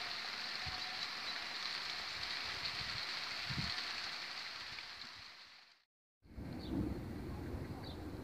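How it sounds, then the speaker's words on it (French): Heavy thunderstorm rain hisses steadily and densely, then drops out abruptly for a moment before returning, with a few soft splashy thumps mixed in. "Il commence à pleuvoir fort."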